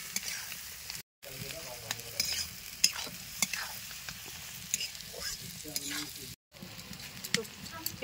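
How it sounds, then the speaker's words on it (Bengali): Onions frying in a pan over a village clay stove, a constant crackling sizzle broken by repeated scraping stirs and soft clicks, close up, with a few faint voices in the background. "পেঁয়াজটা ভেজে নেবো"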